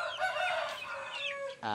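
A young rooster, one of several small grower chickens, gives a short, high crow close by and fairly faint.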